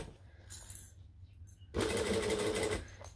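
A sewing machine runs steadily for about a second, stitching close along the piping of a handmade bag. Quieter handling noises come first, then the motor starts with a sharp, loud hum that holds even and constant.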